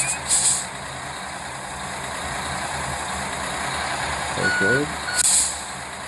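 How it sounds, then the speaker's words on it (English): Simulated semi truck backing a trailer into an alley dock in a trucking simulator game, with a steady engine drone, short reversing beeps and two brief hissing air brake releases, under a single spoken word. "This trucking game is harder to back than you think."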